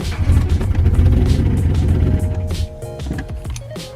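A turbocharged Mercury Marauder that has sat unstarted for months cranks and fires into a loud, rough idle, then the engine note sags and stumbles as it dies away, heard close up.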